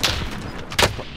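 Sniper fire in the Warzone shooter game: a couple of sharp gunshot cracks, the loudest near the end of a brief span, heard close over quiet game ambience.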